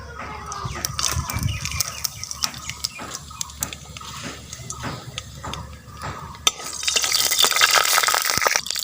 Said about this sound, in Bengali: কড়াইতে আমি ফোড়ন দেবো, দারচিনি, এলাচ আর সাদা জিরে আর একটা তেজপাতা